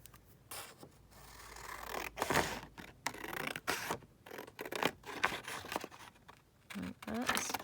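Scissors snip through paper and card for a junk journal folio project, several short bursts of cutting and rustling paper handling, close up, with a voice talking quietly in between.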